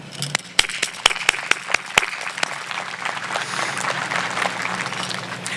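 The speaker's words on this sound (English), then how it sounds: "a round of applause for them" A graduation audience at Stanton College Preparatory's 2020 ceremony applauds, opening with a few sharp, distinct claps that swell into a soft, continuous patter of clapping heard at a distance.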